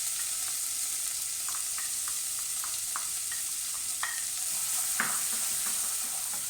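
Onions frying in a pan for palak paneer, a steady sizzle with intermittent scraping and clinking strokes of a spoon stirring them, close and alone without voices.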